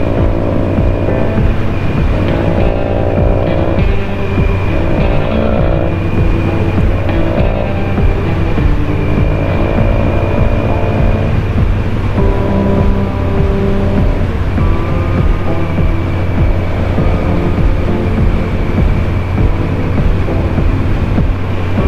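Kawasaki Z900 motorcycle on a sunset ride, with a steady, loud engine drone and wind rush that continue throughout, the engine rising and falling slightly as it changes speed.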